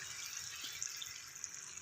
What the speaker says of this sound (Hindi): थोड़ा सा पानी भी मैं इसमें शामिल कर रही हूँ